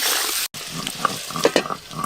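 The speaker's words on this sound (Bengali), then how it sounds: "মাংসের আলুগুলো ভালো করে ভেজে নেব।" Potatoes for a chicken curry fry in hot oil with a steady close sizzle, broken by scraping stirs and a few sharper clatters, no voices.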